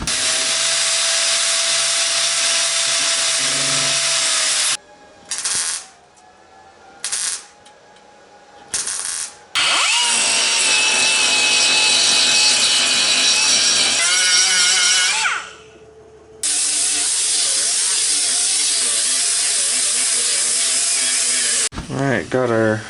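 Grinder working on a welded-in A/C vent inside a truck dash with the glove box door removed, loud high-pitched whining bursts that stop and restart several times, with pitch shifting as it bites into the metal.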